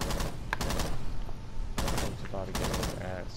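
Gunfire in the video game Rainbow Six Siege: rapid bursts of automatic shots in several volleys, loud and close, with voices talking over them.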